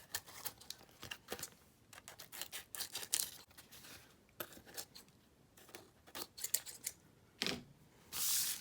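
Scissors trim the excess paper from around a playing card: close, quiet, crisp snips in irregular bursts, with brief pauses between cuts.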